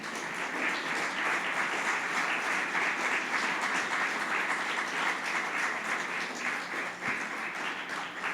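Church congregation applauding continuously, a dense steady wash of many hands clapping together at moderate distance for the whole stretch, with no speech over it.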